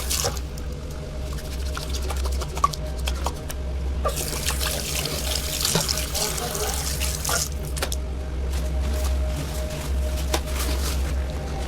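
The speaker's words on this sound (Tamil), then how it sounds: "ஸோ சோப்பை போட்டு கையை கழுவிட்டு" Hands being washed with soap under a running tap in Jeddah, Saudi Arabia, after mixing gravy by hand: a steady trickle and splash of water with faint rubbing, continuous and close, with background hum and scattered clicks.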